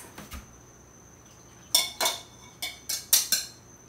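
A utensil knocks and scrapes against a bowl while mixing biscuit ingredients for Thanksgiving, a few sharp, close clinks arriving in quick irregular bursts after a quiet pause.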